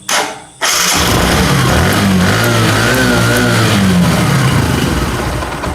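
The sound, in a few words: engine misfiring, exhaust silencer popping, wrong spark plug gap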